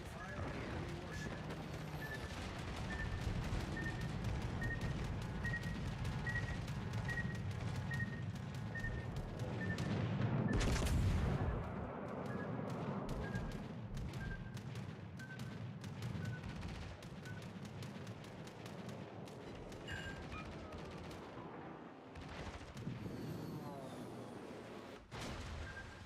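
Warship guns in a naval battle game boom repeatedly over a constant low engine and sea rumble, with one especially heavy blast near the middle; a voice talks at times over the firing.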